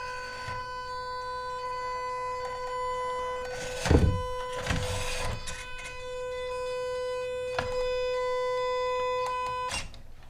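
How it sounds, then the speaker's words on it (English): An MN Model MN99S D90 RC crawler's electronic speed control gives off a steady high-pitched electronic whine with layered tonal hums, interrupted by a few louder clicks and mechanical rustles. "So that noise, I think that's electronic speed control."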